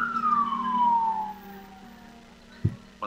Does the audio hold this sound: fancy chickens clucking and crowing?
no